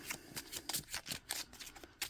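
A deck of tarot cards is shuffled by hand in a rapid series of soft riffling flicks, quiet and close.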